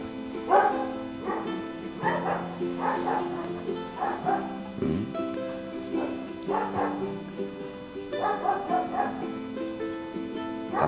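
A pair of white fluffy Bắc Hà dogs bark, yip and whimper in short, irregular bursts, close and lively, with brief gaps between outbursts.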